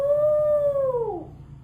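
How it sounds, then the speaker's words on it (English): A single wolf-like howl rises steady and clear for about a second, then slides downward and fades, close and alone with no talk. "This is how the wolves make the sound"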